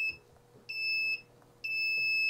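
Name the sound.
buzzer buzzing, Arduino joystick circuit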